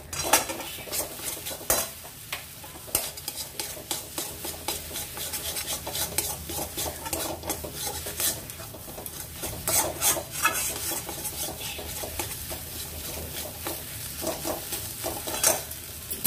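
Mankachu (giant taro) paste is stirred nonstop in a pan with a utensil, giving a steady rasping, scraping rub with a faint sizzle underneath. The sound is close and continuous throughout, with no voices.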